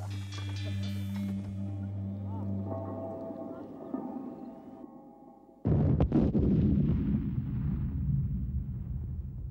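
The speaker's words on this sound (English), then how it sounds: "After the explosion," A blasting charge goes off in a coal mine tunnel: a steady mechanical drone fades out, then a sudden loud deep boom rolls into a long rumbling roar that fills the rest of the clip.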